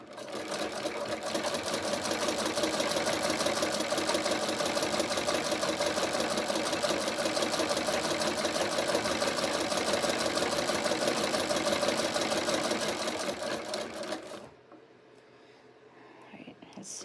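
A Singer 27 sewing machine with a ruffler foot ruffles fabric in a steady, fast, rhythmic clatter running for about fourteen seconds before stopping abruptly, with quiet room sound after.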